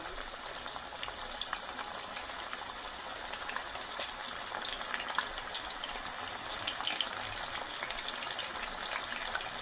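Chicken pieces for pakora dropped into hot oil, giving a steady, dense, hissing fry that runs without a break throughout and carries no voices.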